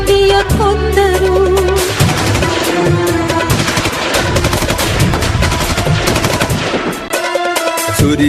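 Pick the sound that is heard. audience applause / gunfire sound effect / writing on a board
gunfire sound effect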